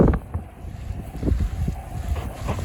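Water rushes into a canal sea lock on the Lancaster Canal, filling it fast, a steady low churning wash with gusty rumble close to the microphone.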